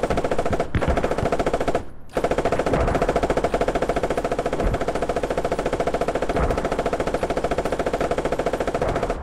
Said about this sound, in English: can you put some shots on the coax on that observe?